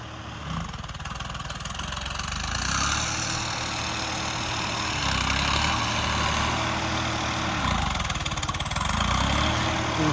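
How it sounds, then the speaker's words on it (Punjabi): A diesel tractor engine fitted with a Garrett turbocharger chugs steadily nearby, its pitch rising and falling as it revs, with no talking. "ਹੁਣ ਤੁਹਾਨੂੰ ਦੂਜਾ ਟਰੈਕਟਰ ਵੀ ਚਲਾ ਕੇ ਦਿਖਾਵਾਂਗੇ"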